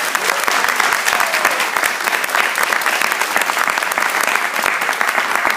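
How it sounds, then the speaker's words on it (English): An audience at a STEM event applauds a speaker with sustained, dense clapping from many hands, steady and fairly loud from start to finish. "Let's give her another round of applause."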